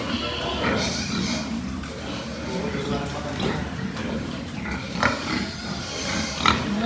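Young female F1 pigs grunt and snuffle in a pen, a steady mix of low grunts with a few sharper squeals, close by, while a person talks now and then.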